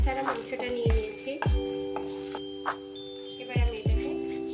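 Boneless chicken pieces fry in a little hot oil in a pan, a soft steady sizzle broken by clinks of a spoon stirring against the pan several times.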